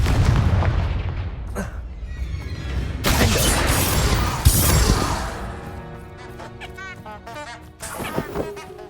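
Confringo blasting curse in Hogwarts Legacy, a booming explosive blast with crashing debris, loud and close, followed by lingering game ambience and smaller impacts.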